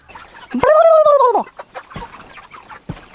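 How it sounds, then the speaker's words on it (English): A single loud, warbling turkey gobble rises and falls for about a second, close by on a homestead, followed by faint clucks and rustling. "I heard one of them turkeys talking."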